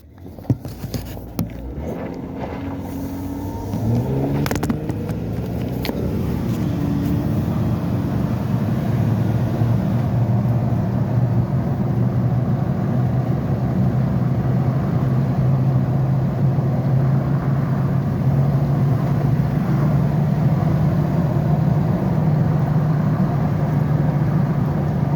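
Jeep on a test drive after a new transmission install, with an engine starting up and then a steady droning rumble of driving that continues loud and even with some whine, no talking.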